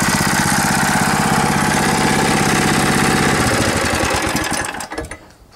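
A Yerf Dog go-kart engine runs loud and close with a rapid, buzzing rattle, its pitch dropping as it winds down and stops at the end.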